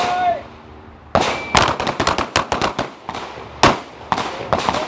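A handgun firing at an outdoor shooting range during a defensive shooting course, with a sharp report followed by a rapid string of loud, close cracks and echoes, plus a quieter earlier sound.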